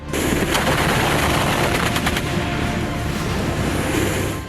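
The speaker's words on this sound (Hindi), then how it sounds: "चीन की फौज यानी PLA ने फाइटर प्लेन को तबाह करने वाला तमाशा दिखाया, जिसमें चीन के एंटी एयरक्राफ्ट हथियारों के साथ लाइट टैंक को भी शामिल किया गया।" Chinese PLA anti-aircraft weapons fire in a military display alongside light tanks: loud, close, continuous bursts of rapid automatic gunfire fill the whole stretch with little pause.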